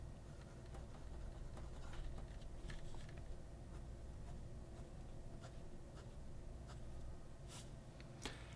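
An Asvine C80 fountain pen with a medium steel nib scratches across paper in soft, faint strokes with small ticks and scrapes over a low steady background hum, no talking.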